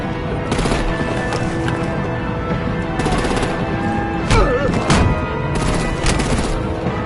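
Dense gunfire and heavy booms from the Batman Telltale video game, with rapid bursts and blasts filling the scene loudly, while a voice briefly speaks within the mix.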